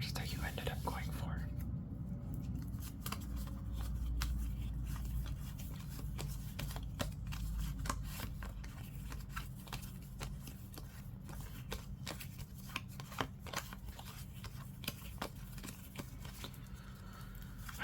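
Pokemon trading cards handled and spread out across a surface in a quiet close-up setting, soft papery slides and light flicks scattered throughout, with whispering over them.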